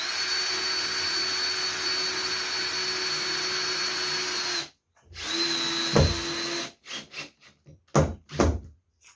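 A power drill drives 40mm stainless steel screws into a skate quarterpipe, with a long steady whine that stops, then restarts, followed by several short bursts and thunks as each screw seats, loud and close.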